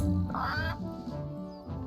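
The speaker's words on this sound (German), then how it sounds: "der Vogel hat ja auch ein Geräusch von sich gegeben" Bird in the video game Return to Monkey Island gives a short nasal, duck-like quacking call, a couple of squawks in quick succession, fairly quiet over a low background.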